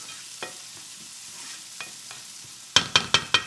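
Onions cook for a fish curry and are pressed down in the pan. A faint, low sizzle runs throughout, then four sharp, close knocks of a spoon pressing against the pan arrive in quick succession near the end.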